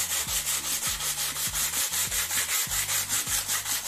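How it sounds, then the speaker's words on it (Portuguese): Sandpaper rubbed hard over wall filler (massa) to even it with the old surface before painting a living room, a steady rhythmic back-and-forth scraping with repeated strokes, close and alone. "Vai lixar sem dó mesmo."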